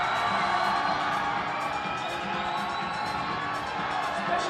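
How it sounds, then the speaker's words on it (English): A large crowd at a climbing competition in Salt Lake City cheers and whoops steadily throughout, a loud, continuous roar of voices with children's shouts mixed in. "Crowd is just willing her through this move."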